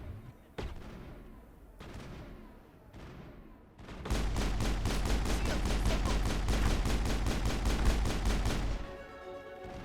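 Rapid automatic gunfire from the video game Mass Effect, scattered shots at first, then a sustained loud burst of steady repeated fire that cuts off near the end.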